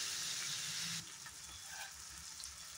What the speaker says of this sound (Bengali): এখন আলু আর টমেটোটা ভালো করে ফ্রাই করে নেব